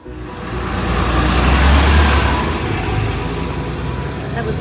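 A bus passes close by a bus stop, its engine and road noise swelling into a loud rushing roar and then slowly easing away.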